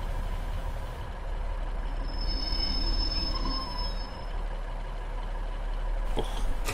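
A Class 150/2 diesel multiple unit in Train Simulator 2015 on the Liverpool to Manchester route brakes to a stop, giving a steady low rumble with a faint high wheel squeal and brake hiss, ending in a short clunk.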